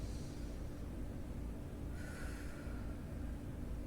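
Forceful breathing during an indoor home workout, with a steady noisy rush of air in and out and a snort-like nasal intake partway through, close and continuous with no talking.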